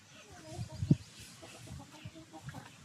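A young chicken, eight to nine months old, gives a few short, close clucks over quiet farmyard background noise.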